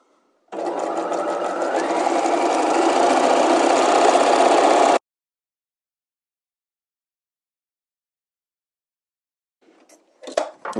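A sewing machine runs in one steady burst of about four seconds, stay stitching the waists of dress skirt panels, close and loud, then stops into silence before a few faint handling clicks.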